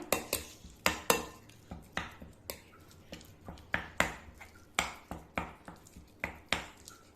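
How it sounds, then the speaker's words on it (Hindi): A spoon stirs and mixes an Irani kabab curry mixture in a metal pot, sharp clanks and scrapes repeating at a brisk, uneven rhythm, close and alone with no talk. "खूब अच्छा सा इसको हमने मिक्स करना है"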